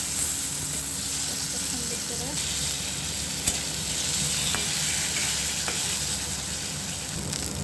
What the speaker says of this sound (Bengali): মাছটা ফ্রাই করে নেব। এখন আমি মাছটাকে উল্টিয়ে নেব।